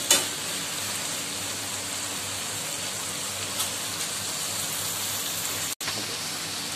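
Beef liver frying in a pan, a steady close crackling sizzle that runs throughout, with a brief clunk near the start and a short break near the end.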